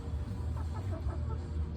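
Hen clucking softly in a coop on a cold night, a few low murmured clucks over a rumbling background hum, close and fairly quiet.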